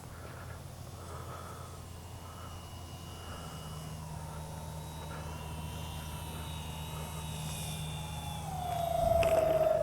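An Avios 1600mm Twin Otter RC model plane comes in to land on a grassy field with flaps down, its steady motor drone holding under wind noise and swelling louder as it nears at the end.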